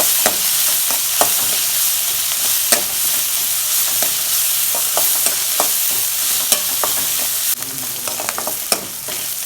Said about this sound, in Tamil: நல்லா வெங்காயத்தை வதக்கிக்குவோம்